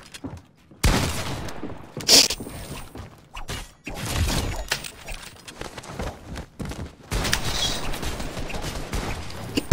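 Rapid gunfire bursts from a Fortnite box fight match, several loud volleys separated by brief gaps, with in-game mechanical clicks and impacts between shots.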